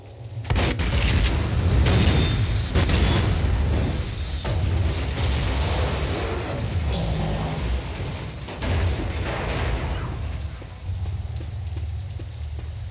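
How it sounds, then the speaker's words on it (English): A gas station blows up in the game Left 4 Dead, a loud, sustained rumbling blast with crackling debris and fire that stays heavy for several seconds and then settles into a lower roar, with no talking. "the spectacle of the gas station detonating"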